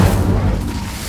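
A fire spell is cast in the Hogwarts Legacy video game, heard as a dense, booming whoosh with heavy low rumble that holds steady through the short burst and then eases slightly.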